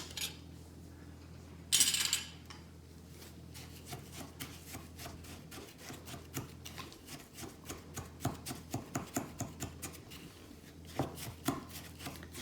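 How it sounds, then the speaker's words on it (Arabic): A homemade skin scrub of oats, honey and coconut oil is mixed by hand in a bowl, giving a series of soft scraping, squishing and tapping strokes in irregular rhythm, close and fairly quiet. "هلا بخلطهم على الاخير ليتجانسوا كلياتهم"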